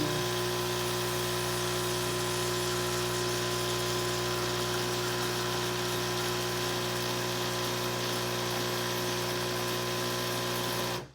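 Starbucks Barista home espresso machine with its pump running, a steady, loud mechanical hum and buzz holding without a break and cutting off abruptly at the end.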